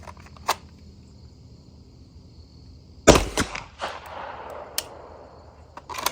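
Handgun fired double action at a target 50 yards downrange: one sharp, loud report at about three seconds, followed by a decaying echo, with a fainter click near the start and brief knocks afterward.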